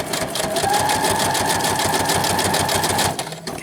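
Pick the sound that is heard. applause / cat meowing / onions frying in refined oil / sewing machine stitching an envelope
sewing machine stitching an envelope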